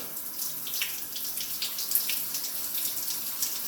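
Hot water running from a GROHE Cosmopolitan thermostatic shower tap, a steady hissing rush with small splashy fluctuations, close and continuous, with no talk.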